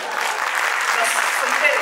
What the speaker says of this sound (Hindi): मैं आपके लिए तालियां बजाती हूँ